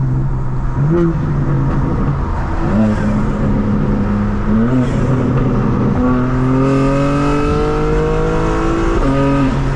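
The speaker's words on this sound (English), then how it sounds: "let's get some exhaust noise" A loud, close 2024 BMW M4 Competition xDrive exhaust revs up and down at night, pitch climbing and falling in several pulls, with a throaty rumble throughout.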